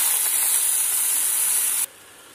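Belali dropped into hot oil, giving a loud, close, steady hissing sizzle that cuts off abruptly near the end, with no talk over it.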